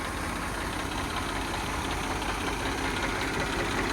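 An Eicher 333 tractor engine idles steadily nearby, a continuous low rumble that stays even and loud throughout with no talking.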